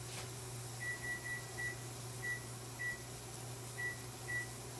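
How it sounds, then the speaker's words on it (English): A kitchen timer about twenty years old is being set, giving about seven short, thin beeps at irregular intervals, faint over a steady background hum. "Kitchen timer, 4 minutes."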